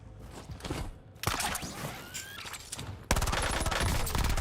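Rapid gunfire in the shooter game Call of Duty Warzone, bursts of automatic fire and shots crackling densely for several seconds, loud and near, with the firing growing heavier toward the end.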